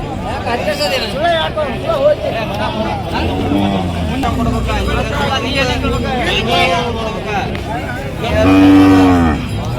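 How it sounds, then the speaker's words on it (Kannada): Native javari cows at the Haveri cattle market, one giving a loud, drawn-out moo near the end over a steady hubbub of crowd chatter and passing vehicles. "ಜವಾರಿ ಆಕಳ ಇದೆ ನೋಡಿ ಇದು."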